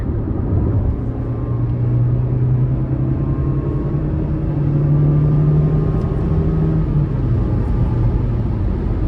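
A 2021 Fiat 500X Trekking accelerating, heard from inside as a loud low engine drone with tones rising and shifting between gears, steady rumble and road noise, no talking.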